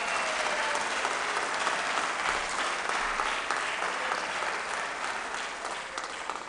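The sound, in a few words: applause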